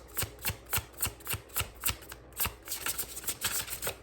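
Tarot cards being shuffled by hand produce a rapid, even series of crisp riffling bursts, close and loud, repeating about twice a second with a brief pause midway.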